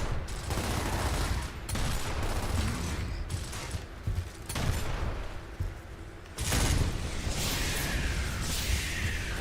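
Gunfire in Gears of War Ultimate Edition rattles in repeated bursts over a dense wash of combat noise and mechanical clanks, with a loud surge late in the action.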